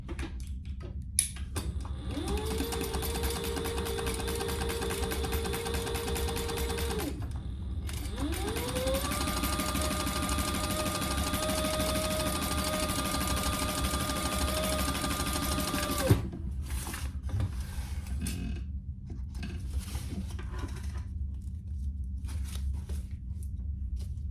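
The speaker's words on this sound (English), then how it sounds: "So we're just going to top stitch across that folded edge that we just made." A sewing machine top stitches across a folded fabric edge in two long, steady motor runs of about five and eight seconds, each rising in pitch at the start, with a short pause between and mechanical clicks afterward.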